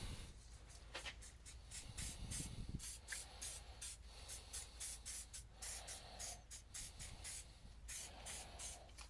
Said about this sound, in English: I'm just going to spray these a little bit here.